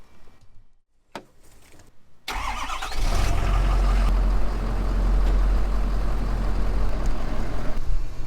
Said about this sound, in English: While we're waiting for the air tank to fill up